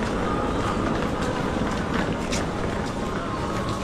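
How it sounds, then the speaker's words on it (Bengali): A train runs at a railway station platform with a continuous loud rumble and rattle throughout, heard close, and faint voices sit underneath. "2 নম্বরে ট্রেনটা দিয়েছিল"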